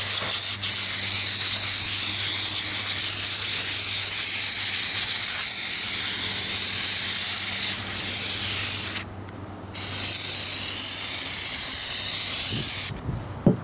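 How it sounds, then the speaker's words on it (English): Brake cleaner sprays in long, loud, steady hissing bursts onto a new front brake rotor of a Chevy Impala, Monte Carlo or Buick, with two brief pauses between blasts. "Best thing to use is just some brake cleaner and a piece of cardboard."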